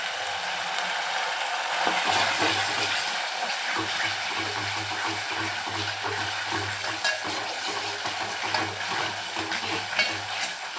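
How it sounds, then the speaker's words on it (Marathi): Ginger-garlic paste sizzles steadily while being sautéed in a pan for a village-style dry chicken dish, with a continuous frying hiss and occasional scraping and stirring knocks and no talking. "त्यामध्ये एक मोठा चमचा अद्रक लसूण पेस्ट मी ॲड केलेली आहे छान याला परतून घेऊया आपण"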